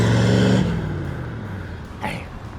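A 1966 Chevrolet Corvette big block V8 on the move, a deep loud engine note that drops away after a moment, followed by a softer rumble and a brief burst of noise.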